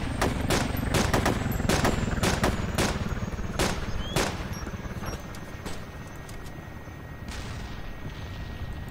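Gunfire in Arma 2: a string of sharp, loud rifle shots in irregular bursts over a steady low rumble, the shots thinning out toward the end.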